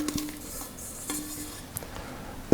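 Airy panettone dough being tipped out of its container: soft thuds and light clinks of the container against a surface, close and fairly quiet, with no talking.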